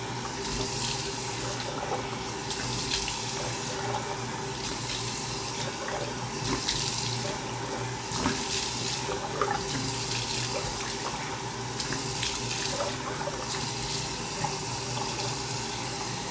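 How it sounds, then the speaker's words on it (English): Water runs steadily from a bathroom sink tap during face rinsing, a constant close hiss broken at regular intervals by splashing bursts as hands scoop and rinse. "And I never use hot water to rinse my face. It's usually lukewarm."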